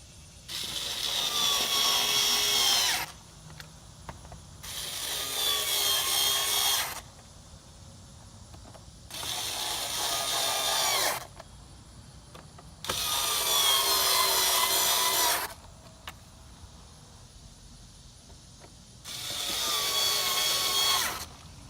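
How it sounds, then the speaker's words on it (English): A cordless electric screwdriver removes the air filter housing screws on a 2019 Volkswagen Atlas in five whirring, ratcheting bursts of two to three seconds each. Quiet gaps separate the bursts, and no one talks. "this electric screwdriver, charge the screwdriver, makes it a whole lot easier"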